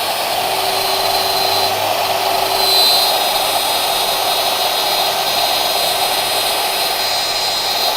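A Shaper handheld CNC router spindle cuts an inside pocket, giving a steady, loud, whining hum with constant broadband hiss that holds evenly throughout, with no voices.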